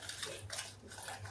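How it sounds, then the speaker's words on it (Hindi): Eggplant being mixed with turmeric, coriander, chilli, salt and amchur powder in a bowl, a soft continuous scraping and clinking of a spoon, faint and close, without speech. "और अब हम इसको मिक्स करते हैं।"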